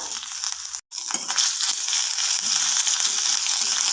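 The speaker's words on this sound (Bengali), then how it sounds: "আদাটা হালকা ভেজে নিয়েছি" Ginger paste for a kachori filling frying in a pan, a loud, dense, close crackling sizzle that runs almost continuously, with one brief dropout near the start and no voices.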